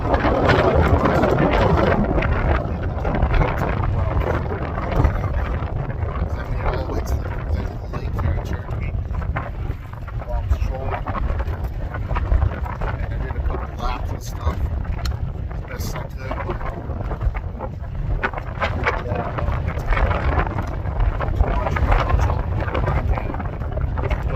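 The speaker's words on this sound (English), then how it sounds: "You can hear the wind, but the wind's picked up quite a bit." Strong wind roars and buffets steadily across a Colorado lake with whitecaps, where a boat is out, rumbling and gusting continuously throughout, with occasional faint sounds beneath.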